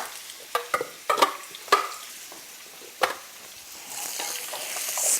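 Chunky vegetables, about three cups, sautéing in a pan, with sharp clattering knocks and scrapes of a stirring utensil over a soft sizzle that swells louder toward the end, close up, with no voices.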